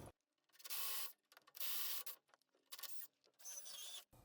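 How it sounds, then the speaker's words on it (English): Copper pipe is rubbed with a pipe cleaning sanding tool in four rhythmic abrasive strokes, each a rasping scrape about half a second long separated by brief pauses, close and quiet. "just basically able to sand the pipe."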